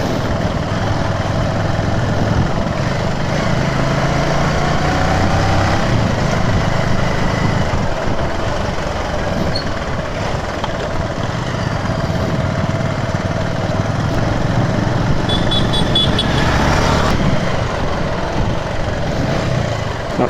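A motorcycle rides through city streets at night, its engine droning steadily with continuous road and wind noise throughout, no talk.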